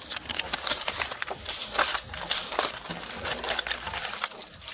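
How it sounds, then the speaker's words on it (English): Keys jingle and clink as they are dropped into a purse, a close, steady metallic jangling that carries on for several seconds with no talk. "I'm gonna put your keys back in your purse if you don't mind."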